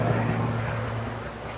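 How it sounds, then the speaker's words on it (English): An older helicopter passes overhead outdoors near a beer garden, a steady low droning rotor and engine rumble that holds fairly loud and gradually eases, with no talking. "Oh, old helicopter going over."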